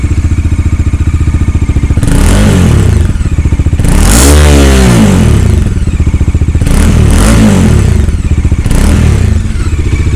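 A Bajaj Dominar 400 BS6 motorcycle, a 400 cc bike, is revved hard several times over a loud, close idle, its sporty exhaust note rising and falling in distinct bursts with no talking.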